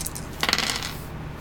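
Dice from the Test of Honour tabletop game clatter briefly on a hard surface, a quick cluster of bright clicks and rattles close by over low background hum.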